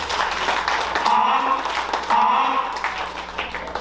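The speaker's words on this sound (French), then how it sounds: "Applaudissez pour son diplôme, s'il vous plaît." A wedding audience applauds a graduate's diploma in general pedagogy at a traditional wedding in Dallas. Dense, steady crowd clapping fills the whole stretch with a faint murmur of voices beneath it.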